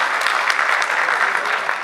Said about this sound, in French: Il faut l'applaudir, il accompagne tous ces événements.